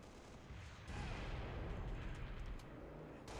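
Halo: Reach gunfire, several heavy shots in quick succession over a dense rumbling game soundscape, loud and close throughout.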